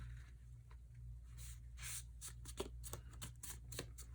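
Gray score tool drawn back and forth across cardstock for a handmade card, producing faint repeated scratchy strokes in a quick, uneven rhythm, close and quiet.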